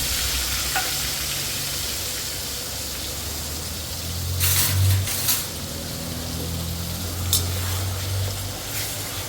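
Onion, green chilli and garlic paste frying in a pan with asafoetida, a steady close sizzle with bursts of louder spitting and stirring scrapes as the paste hits the hot oil.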